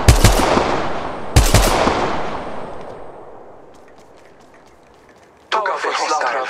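Loud gunfire bursts in the Apex Legends Mobile shooter: two sharp, close reports with echoing decay, a quieter lull, then another burst near the end.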